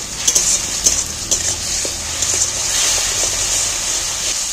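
Spices and ingredients for a fish roe curry are stirred and sautéed in a pan, a steady sizzle under a few sharp scrapes and knocks of a spoon against the metal.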